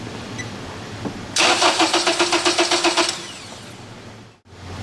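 An Acura TSX with a no-start fault cranks on its starter for about two seconds, a loud, close, rapid rhythmic whirring that never catches, then falls quiet.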